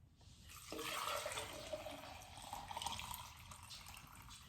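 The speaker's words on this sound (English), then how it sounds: "I fill it up with some warm water." Warm water poured into a smoothie jar holding a slice of lime or lemon, a steady splashing, gurgling stream that starts abruptly, fills the clip at close range, then tapers slightly near the end.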